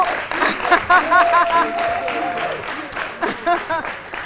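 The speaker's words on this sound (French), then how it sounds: "on entend bisser, bisser, bisser dans la foule, bisser dans le public" An audience applauds after a song at a televised midday show, with sustained clapping and crowd calls rising in waves, while a presenter's voice runs over the top.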